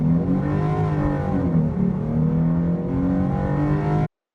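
An S197 Ford Mustang V6 launches hard and accelerates, its engine note loud and sustained as it climbs through revs for about four seconds before cutting off abruptly.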